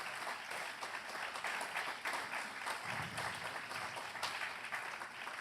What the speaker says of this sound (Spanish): Vamos a darle otro aplauso al Señor.